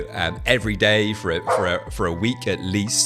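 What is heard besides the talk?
dog barking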